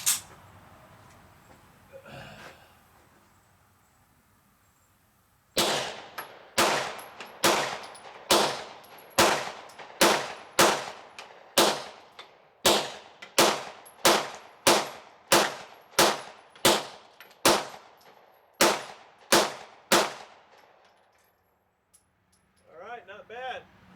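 Gunshots fired downrange at an outdoor shooting range, roughly twenty loud, sharp reports at a steady, deliberate pace with ringing tails, after a brief quiet start; speech is faintly present.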